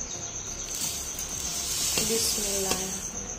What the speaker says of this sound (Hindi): ये देखें अच्छे से उबाल आ रहा है